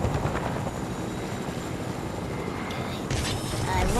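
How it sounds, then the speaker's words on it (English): Helicopter rotor in a prison-breakout map of a video game, a steady, loud, close whirring drone that fills the whole stretch and swells slightly near the end. "Can hear the propeller"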